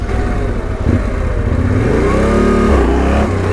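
A motorcycle engine revs continuously during a wheelie attempt, loud and close, with a steady roar that climbs and dips in pitch as the throttle changes and a brief lurch near the end.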